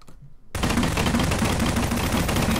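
Rapid automatic gunfire in the Garry's Mod Prop Hunt video game, a sudden sustained burst of loud shots following a quiet moment.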